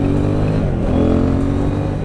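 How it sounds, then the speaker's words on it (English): A KTM 790 Duke or Triumph Street Triple 765 R motorcycle engine pulls hard on an open road, a loud, steady pulsing drone climbing in pitch as it gathers speed, close and with no voices. "You can actually feel the pulses of the engine as it gets up to speed."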